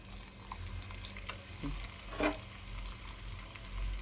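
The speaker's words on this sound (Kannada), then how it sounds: "ಎಣ್ಣೆ ಬಿಸಿ ಆಗಿದೆ, ಚಕ್ಲಿ ಹಾಕ್ತೀನಿ ನೋಡಿ." Rice flour chakli dropped into hot oil, giving a soft, steady bubbling sizzle with a few small crackles and pops, fairly quiet and close, no voices.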